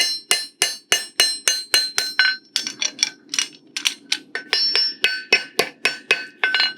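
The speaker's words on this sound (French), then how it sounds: "Et là, j'incline mon marteau." Farrier hammering a horseshoe with a tilted hammer, bright ringing metallic strikes in quick regular rhythm, close and loud, with brief pauses between bursts of blows.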